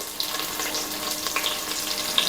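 Onion fries in a hot pan for a raw jackfruit biryani, a steady close hiss of sizzling oil with faint crackles throughout.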